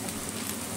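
Dough frying in hot oil until golden, a steady close sizzling hiss with no talk over it.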